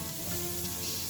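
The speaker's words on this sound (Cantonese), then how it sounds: "keep 住個中火嚟炒啲五花肉，將五花肉入邊嘅油脂呢炒一炒佢出嚟。" Pork belly frying in a wok over medium heat, rendering its fat, makes a close, continuous sizzle with no talk over it.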